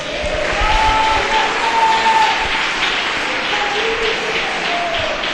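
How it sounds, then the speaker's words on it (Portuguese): A church congregation claps together in a steady, dense wash of applause filling the room, sustained and fairly loud throughout with no speech over it. "Dá uma salva de palmas para Jesus."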